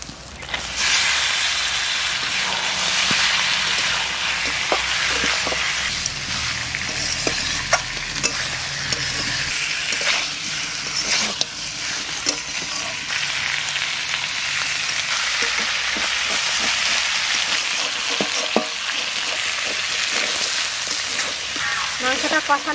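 Marinated meat hits a hot pan of cooked-down spices and fries with a loud, continuous hiss and sizzle, broken by scattered clinks and scrapes of stirring that carry on without pause.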